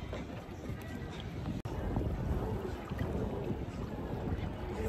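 A water bike out on open water gives a steady rush of wind and water noise, with a brief sharp click near the middle and no talk over it.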